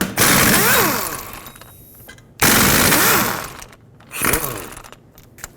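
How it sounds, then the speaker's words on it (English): A wrench with a 3/8 socket spins off 17mm rear hub bolts on a 2001-2007 Toyota Highlander in three loud, close rattling bursts separated by short pauses. "Remove all 4 of these 17mm bolts."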